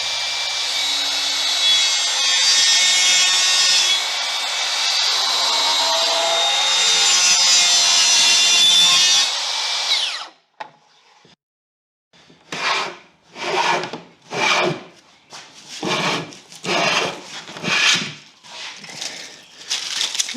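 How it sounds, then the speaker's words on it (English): Reclaimed wood bookcase sides being trimmed along their top edges: a long continuous loud cutting or planing pass, then a brief pause, followed by a series of rhythmic back-and-forth rasping strokes, close and alone. "I'll trim the top edges so that they are a perfect match"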